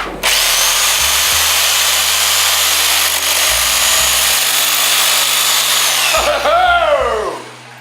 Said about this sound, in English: we're gonna have to take a jigsaw and we're gonna have to cut down this blank a little bit